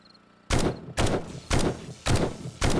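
Five sharp, loud gunshots ring out at roughly even half-second intervals, each with a short decaying tail, from weapons fire in the zombie survival game 7 Days to Die.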